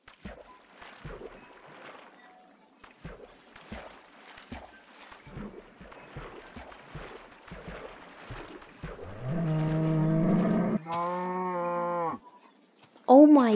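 Blocky cattle in the oldest version of Minecraft mooing repeatedly in long, loud, tonal groans, one after another late in the sequence, after a stretch of quieter splashing footsteps and movement through water.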